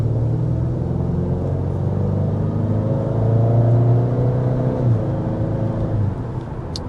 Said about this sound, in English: there was a more normal acceleration there, and that demonstrates the smoothness of this 10-speed automatic transmission on board